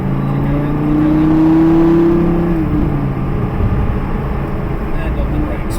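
A Lamborghini driven by a ten-year-old boy speeds up, its engine note rising in a steady climb for about two seconds before settling into a loud, continuous rumble. A voice talks over it.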